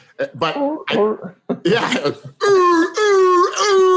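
A voice imitates a harsh, barking cough in several rough bursts, ending in drawn-out whooping, wheezy sounds.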